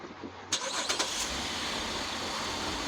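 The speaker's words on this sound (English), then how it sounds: "car starts." A 2013 Chevy Traverse engine starts by remote, a quick cranking catch followed by a steady idle, heard close and without talk.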